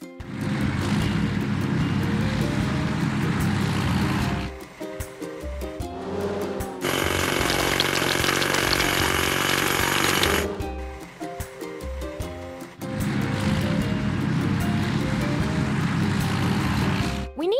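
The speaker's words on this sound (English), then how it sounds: "Let's crack the biggest rocks." A hydraulic hammer breaks rocks in a house-building video game, loud rough rattling bursts in long stretches separated by a brighter, hissing mechanical passage, close and with no talk.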